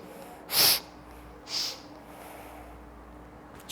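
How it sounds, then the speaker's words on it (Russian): A person does rhythmic sharp sniffing breaths in a breathing exercise, two quick nasal snorts about a second apart, close and loud against a quiet room. "шмыганье выполняется на наклон вперед и наклон назад"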